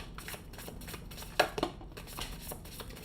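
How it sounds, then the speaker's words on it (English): A deck of playing cards being shuffled by hand at close range, with soft riffling broken by a few sharp snaps and clicks in the middle. "5 shuffles."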